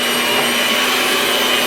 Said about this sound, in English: let me get this all whipped up